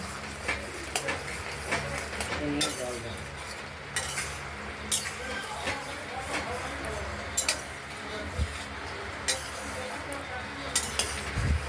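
Pointed gourd being sautéed with ground spices in a pan, with soft sizzling under repeated scraping and clinking of a spatula against the pan at an irregular rhythm.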